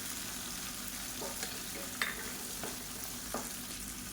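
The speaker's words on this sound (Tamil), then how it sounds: "முருகக்காய் எடுத்திருக்கேன் அதை சேர்த்துக்கலாம் சேர்த்துட்டு இந்த எண்ணெயிலே நல்லா வதக்கி விட்டுக்கலாம்" Drumsticks sauté in oil with salt, giving a steady, even sizzle broken by a few soft stirring clicks. The sound stays close and fairly quiet throughout.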